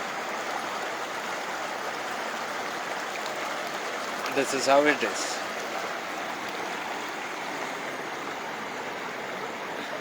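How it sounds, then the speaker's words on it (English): A small stream of the Ganga in a valley in Uttarkashi, flowing over rocks with a steady, fairly loud rushing wash, briefly joined by someone speaking a few words. "This is a little stream that is flowing here."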